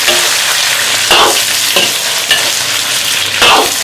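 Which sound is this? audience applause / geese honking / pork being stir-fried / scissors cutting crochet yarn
pork being stir-fried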